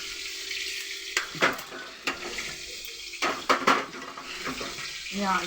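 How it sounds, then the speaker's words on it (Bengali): Egg omelette frying in a pan in a home kitchen, a soft sizzle broken by sharp clinks of a utensil against the pan and a short splash of running water. "ডিমটা ভেজে দিলাম।"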